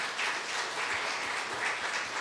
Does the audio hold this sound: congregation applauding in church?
yes